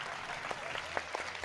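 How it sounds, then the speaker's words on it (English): Courtroom crowd noise from the video game Great Ace Attorney Chronicles, a steady wash of applause-like murmur with a few sharper claps, fairly faint and continuous. "That's the courtroom making noises."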